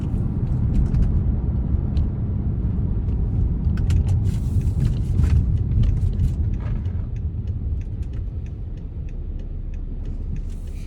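Interior of a car adapted for a disabled driver while it drives, a steady low road rumble and engine hum throughout, with occasional faint clicks and rattles inside the cabin.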